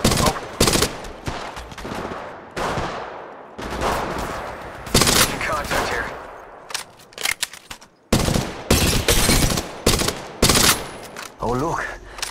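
Bursts of automatic gunfire in the mobile game Apex Legends Mobile, loud repeated volleys broken by short pauses, with shots echoing and tailing off between bursts.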